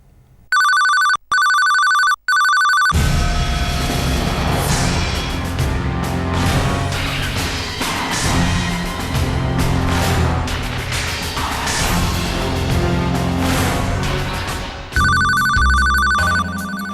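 A telephone ringtone trills in a few clipped bursts, gives way to a long stretch of loud, dramatic music, then rings again steadily at the close.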